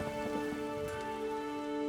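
Steady hiss of rain falling in The Witcher 3, a soft broadband patter with no distinct drops, alone and even throughout, faint music tones running underneath.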